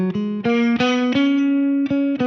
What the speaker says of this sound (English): if I just play a D Mixolydian scale, it'll sound like this